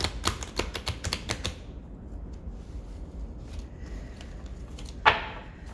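A quick burst of rapid, crisp paper flutters from a deck of cards being shuffled, then near-quiet, ending with one sharp tap.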